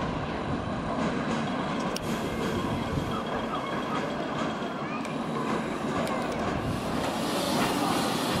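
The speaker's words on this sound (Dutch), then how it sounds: "Oh, wat een mooi trein." Small tourist train ride at Pairi Daiza zoo, a steady broadband rumble and rattle of the moving train throughout, fairly loud and continuous with faint voices mixed in.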